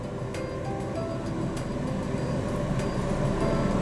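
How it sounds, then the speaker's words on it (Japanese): A Nissan March compact car's engine idles steadily after push-button start, a constant low rumble with a faint hum, heard from inside the car with no talking. "エンジンの音はこんな感じです。"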